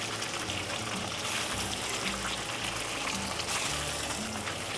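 Tofu frying in hot, smoking oil in a pan gives a steady, watery crackle and hiss that runs unbroken and fairly quiet the whole time, with no voices.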